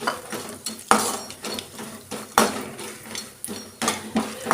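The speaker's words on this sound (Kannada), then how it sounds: "ಈಗ ಬಾದಾಮಿನ ಫ್ರೈ ಮಾಡ್ಕೊತಾ ಇದ್ದೀನಿ" Almonds frying in a pan for antina unde, heard as repeated sharp clinks and scrapes of a spoon against the metal pan in an uneven rhythm, close and fairly loud, with a faint sizzle beneath.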